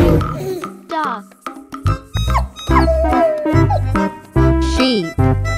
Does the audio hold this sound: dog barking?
yes